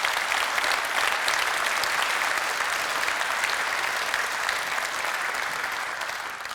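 Sustained applause from a large audience at a political speech, a steady dense wash of clapping at a constant loud level with no talk over it.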